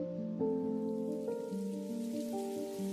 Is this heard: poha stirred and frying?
no